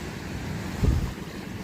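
Ocean surf at New Smyrna Beach at sunrise rolls under steady wind noise, with one wave swelling and washing in briefly at mid-clip, and no one speaking.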